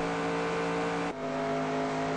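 Steady droning stock car engine at sustained high revs while lapping Chicagoland in NR2002, loud and continuous, with a slight pitch change midway.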